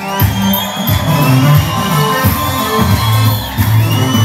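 A worship-service congregation fills the room with loud, continuous ululating and shouting, high trilling voices layered over crowd noise with rhythmic clapping underneath.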